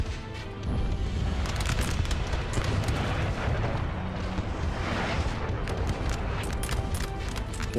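Artillery fire in the Napoleonic battle game Napoleon: Total War, a steady dense roar of distant cannon booms and musketry rumbling continuously across the battlefield, with no voices.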